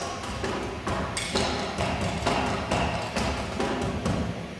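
Soft, steady electronic drum kit patterns with muted thumps and quick ticking hits, played quietly at low volume in a regular rhythm.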